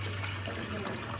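Water poured steadily into an alligator tank makes a continuous close splashing rush, with no pauses.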